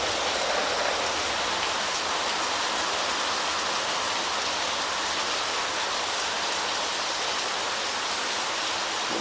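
Heavy rain pouring down steadily, a dense, even hiss of downpour close by with no breaks or voices, filling the whole stretch at a constant level.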